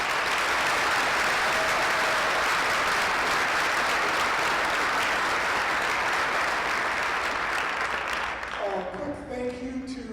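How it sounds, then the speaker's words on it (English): Sustained, loud crowd applause fills a football championship welcome-home celebration, steady clapping throughout before it thins out and a voice begins over the tail end. "one more giant round of applause for their families"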